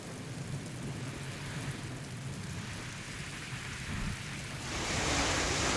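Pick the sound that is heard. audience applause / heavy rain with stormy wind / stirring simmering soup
heavy rain with stormy wind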